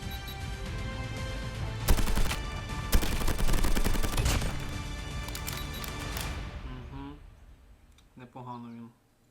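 Rapid bursts of gunfire in the game Call of Duty Mobile crackle loudly for several seconds, then cut out, followed by a short burst of speech.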